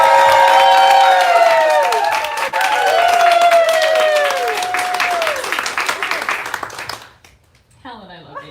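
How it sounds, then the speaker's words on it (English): A crowd applauds loudly with clapping and cheering while voices call out over it; the applause fades and stops near the end. "Everyone, please give a really, really big in-person round of applause to Helen Ellis"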